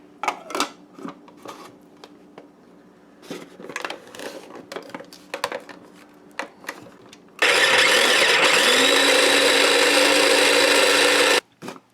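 A blender grinding with a little water gives a loud, steady motorized whir after a stretch of clattering and knocking, runs evenly for a few seconds, then cuts off abruptly.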